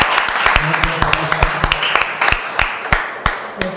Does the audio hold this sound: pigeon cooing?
no